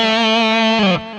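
Boosted, more distorted guitar solo tone through a Digitech RP355 pedal: a single loud sustained note rings for about a second, bends slightly, then cuts off.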